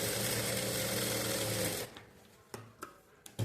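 Sewing machine running steadily while stitching down a folded blouse hem, a loud continuous whirr for almost two seconds, then it stops and only a few soft handling clicks and taps remain.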